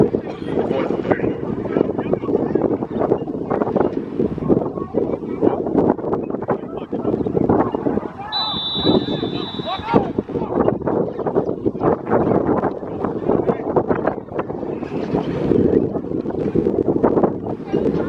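Wind blowing across an outdoor field at a semi-pro football game, a constant gusty buffeting rush of wind noise on the microphone throughout, with a brief whistle partway through.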